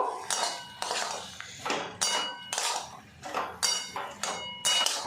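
Fried potatoes and yogurt-coated soyabean chunks are stirred with spices in a metal pan, sounding as a steady series of close, sharp scrapes and clanks of a spatula against the pan.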